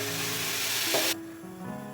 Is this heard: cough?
no